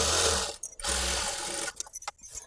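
Sewing machine stitching the back-neck lining of a work blouse, running in two loud, steady bursts separated by brief pauses, then a few short uneven stops and starts, with no talking.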